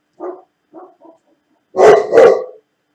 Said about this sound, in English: That's my Alsatian. He's got the nicest cello voice in the world. It sounds like he was barking in a cellar.